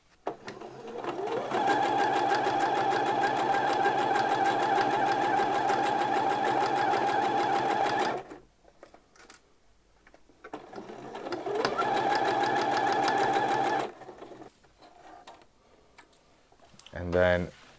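A sewing machine stitches the short edge of a trouser waistband in two sustained runs, a fast, even mechanical whirring and ticking up close, separated by a quiet pause with faint handling noises.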